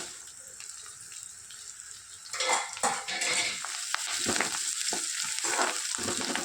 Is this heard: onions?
yes